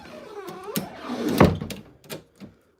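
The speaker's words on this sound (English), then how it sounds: "Lock the door." Door being locked: a few close knocks and a solid thunk with rattling, followed by quieter clicks and handling noises.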